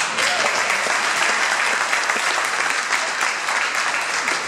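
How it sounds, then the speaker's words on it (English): An audience at a Santa Clara County supervisor's annual report event gives a round of applause, a steady, dense burst of clapping from a room full of people, loud and continuous throughout. "give him a round of applause"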